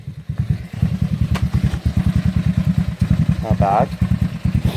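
A scooter engine fitted under a Dowco cover, started after a cold 42°F night outdoors, runs with a steady, rapid putter close by, its rhythmic chugging continuous throughout while a person speaks briefly over it.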